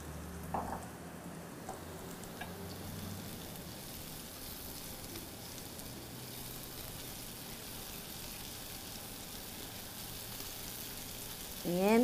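Chopped garlic sizzles and fries in a hot pan, a soft, steady crackling hiss that runs unbroken throughout with no talk over it.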